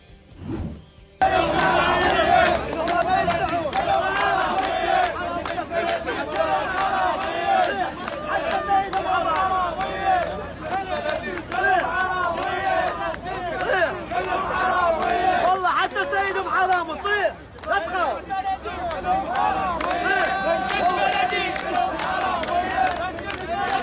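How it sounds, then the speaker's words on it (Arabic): Protesting sanitation workers in Al-Qadisiyah, Iraq, unpaid for months, chant slogans together as a crowd, a loud continuous mass of voices with rhythmic shouts and general hubbub throughout. "ورددوا هتافات قالوا فيها مجلس بلدي كلهم حرامية"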